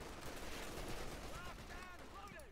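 Mortar fire and machine-gun bursts from a .50 caliber position in a Company of Heroes 2 match, Wehrmacht against US Forces, form a dense, continuous battle din with scattered whistling shell sounds over a steady rumble.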